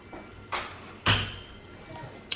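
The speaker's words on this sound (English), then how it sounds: "Close the door, please." A door closes in the background with a soft thud, then a louder, sharper knock, and a faint tap follows at the end, all at a distance in a quiet room.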